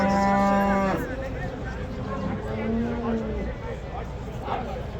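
A cow lows loudly and long at the start, with more moos following amid a busy crowd murmur of talk and bustle at a livestock market's cow row.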